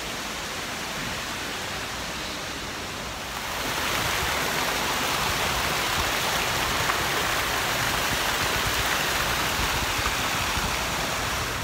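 A park water fountain at Sentosa, Singapore, gives off a constant rushing splash that swells louder after a few seconds and then holds steady, with no voices over it.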